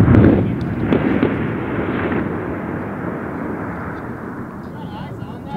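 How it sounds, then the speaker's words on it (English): A burst of gunfire and an explosion echo up from a valley below in Afghanistan, a loud boom at the start followed by rumbling, sustained noise that fades slowly. "Just heard gunshots and an explosion coming up from the valley below us."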